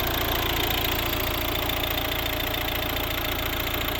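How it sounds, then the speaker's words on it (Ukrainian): A 2012 Volvo V60 1.6 D2 diesel engine idles steadily at close range, a constant low rumble with a faint rhythmic knock and no voices. "Класна робота двигуна."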